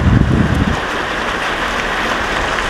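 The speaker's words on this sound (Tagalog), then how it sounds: "Ito yung tubig mga turistas." Water rushing through a small mountain valley between hills, a steady broadband wash that stays loud and close throughout, with a heavier low rumble in the first moments.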